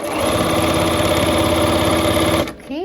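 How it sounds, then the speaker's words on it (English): A sewing machine runs at a steady, loud, rapid whir while stitching fabric forward and back-stitching, then stops abruptly near the end, leaving a brief quieter tail. "I'm gonna take a couple stitches forward and then go back and back stitch it"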